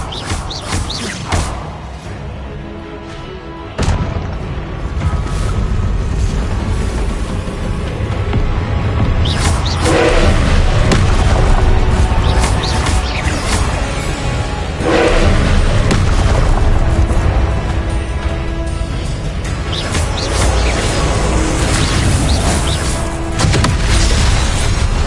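Confringo and Expelliarmus spell blasts in Hogwarts Legacy go off as loud, repeated booming bursts over a dense, continuous game soundscape of thuds and crackles.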